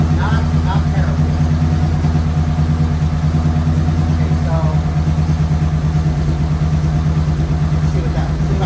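A rough-running engine idles rich with a steady low drone and a faint uneven dip in speed, close and continuous while someone talks over it.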